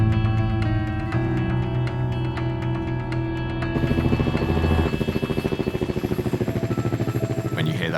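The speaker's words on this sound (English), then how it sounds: "When you hear that sort of rumble above the building of the helicopter landing" Steady, loud rotor rumble with a low throbbing pulse, growing denser and more rhythmic toward the end as a helicopter passes close overhead, landing on a hospital rooftop.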